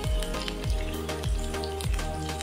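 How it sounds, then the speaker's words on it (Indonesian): Onions and garlic fry in a hot pan for a Mamak-style prawn curry, giving a steady close sizzle with a few sharper stirring bursts, and no one speaking. "goreng dulu bawang ni sampai naik bau, bawang dan bawang putih"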